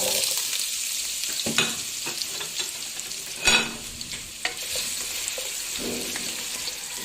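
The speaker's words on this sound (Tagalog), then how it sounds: "Ipiprito muna natin yung ating patatas and carrots." Potatoes and carrots sizzle in hot oil in a pan for chicken curry, a soft crackling hiss broken by occasional scrapes and clacks of stirring, close and quiet.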